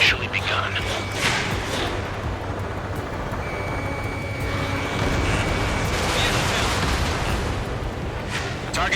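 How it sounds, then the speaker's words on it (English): Anti-aircraft guns in the video game Ace Combat 7 fire in rolling, rumbling bursts under a constant drone of battle noise, while voices talk over the radio. "Fire the AA!"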